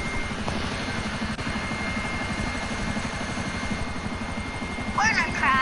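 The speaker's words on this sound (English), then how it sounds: "Whatever, helicopter." Helicopter rotor chopping steadily throughout in the video game GTA 5, a continuous loud pulsing drone with a brief higher-pitched sound near the end.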